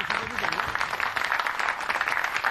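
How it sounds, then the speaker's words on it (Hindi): Audience applause for Deepak Gupta, a young man from Faridabad, a dense, steady wash of many hands clapping that holds at an even level throughout without a break. "एक बार तालियां बजाएं फरीदाबाद से हमारे बीच आके लेकर।"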